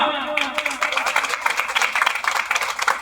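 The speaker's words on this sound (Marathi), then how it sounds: "देशाच्या सेवेसाठी टाळ्या वाजवा." An audience claps for service to the country at a Marathi gathering, a brisk run of hand claps from a crowd that starts just after a brief voice and continues steadily to the end.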